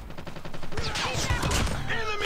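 A few shotgun blasts in a mobile first-person shooter game, sharp bursts and clattering reports crowding together over a second or so, fairly close, with a rhythmic background beat beforehand.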